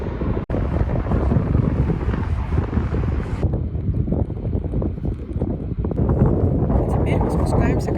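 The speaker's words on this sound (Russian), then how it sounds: "наверху еще более ветрено" Strong wind on high ground above the Pacific coast at Viña del Mar and Valparaíso, Chile, buffeting the microphone in a continuous loud roar, gusting unevenly with rumbling low noise throughout.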